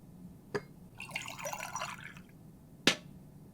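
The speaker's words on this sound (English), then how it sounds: "I still need to pour some milk and tea in." Milk and tea being poured into a cup in a video game: a short trickling, splashing pour of liquid framed by a sharp clink of china before and after, close and moderately loud with no talking.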